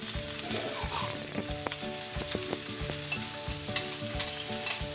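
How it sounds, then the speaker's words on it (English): Bean sprouts and carrots stir-fry in a hot pan for an egg roll filling, a steady close sizzle broken by repeated scraping and clinking as a utensil tosses them. "And you're going to add your bean sprouts."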